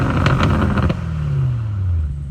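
A 2021 BMW M850i in Sport Plus mode gives a loud, close exhaust note: a rough, pulsing rumble that settles into a steady deep drone as the engine note slowly falls.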